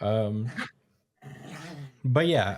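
A dog growls low and close, in two throaty rumbles separated by a short silence, with a person's speech overlapping the growls.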